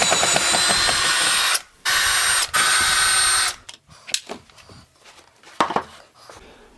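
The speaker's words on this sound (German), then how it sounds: "Wo habe ich meinen Akkuschrauber?" Cordless screwdriver unscrewing the backrest of an old sofa during reupholstery: a steady, loud whirring drive in three bursts with short pauses, followed by scattered clicks, scrapes and handling knocks.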